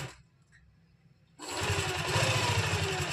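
After a quiet moment of faint handling, a sewing machine starts up and runs steadily close by, a loud buzzing whir of stitching over a seam on a lined kameez. No voices.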